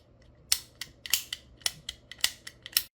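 Dollar store toy cap gun fired with no caps loaded, giving about ten sharp, dry plastic clicks in an irregular rapid sequence, close and fairly quiet.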